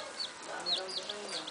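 A mother hen and her chicks make soft, faint clucks and thin high peeps, scattered chirps over a quiet, steady background.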